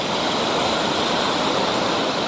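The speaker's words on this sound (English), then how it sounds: "The tunnel. Water coming through a tunnel." Fast water rushes through a tunnel on the South Fork Yuba River, a dense, loud, steady broadband roar heard close and alone.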